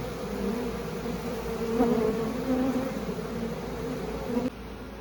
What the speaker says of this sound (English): I decided to dump the bees out on this board